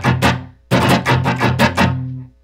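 The busier strum pattern from The Who's The Seeker on rhythm guitar: a doubled strum, then a dense run of quick successive strums that ring on together, close and loud, with no talking over it.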